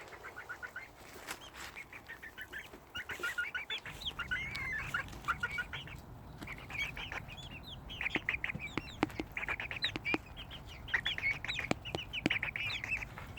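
A flock of chickens clucks busily in quick, repeated bursts, with occasional wing flapping and scratching nearby, close and lively with no talk.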